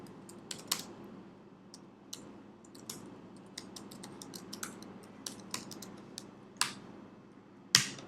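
Code is typed on a computer keyboard in quiet, uneven bursts of light clicks and a few louder key strikes, faint and close, with no voices.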